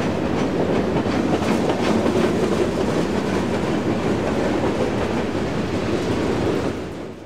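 Train 11K rolls through a small town on the Pittsburgh Line, a loud, continuous rumble with rhythmic wheel clatter that holds steady and then eases off at the very end.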